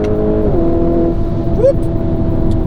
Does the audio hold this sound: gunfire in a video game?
no